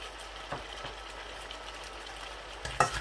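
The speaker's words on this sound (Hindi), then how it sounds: "मैं अच्छी तरह से हिलाकर एक बार मिक्स कर दूँगा।" Aloo bhujia frying in a pan gives a low, steady sizzle, broken by a few soft stirring scrapes and a sharper clatter near the end.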